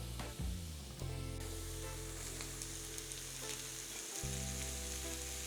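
Chopped reconstituted mushrooms drop into a pan of frying shallots for risotto, and a steady close sizzle follows, with brief stirring and shifting accents and no voices.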